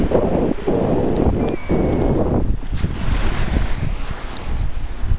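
Waves wash onto a Lake Michigan shore on Memorial Day, heard as rushing surf under heavy wind buffeting the microphone, loud and continuous.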